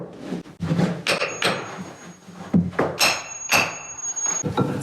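Hammer striking a steel felling wedge outdoors at an off-grid cabin build, with a series of sharp metallic blows in a steady rhythm, some leaving a brief high ring, heard close and loud.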